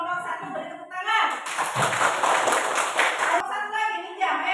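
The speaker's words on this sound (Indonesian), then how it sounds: "Oke, bagus untuk kelompok 1, beri tepuk tangan." A classroom of children claps briefly for their group during a lesson. A short burst of hands sounds close and lively between stretches of a teacher's voice.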